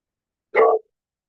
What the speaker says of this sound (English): She's probably still barking at my neighbor picking up the wood.